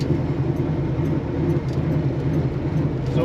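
A big block car with a four-speed manual gearbox drives along, its engine giving a steady low rumble with a droning hum that holds even throughout, close and fairly loud with no talking.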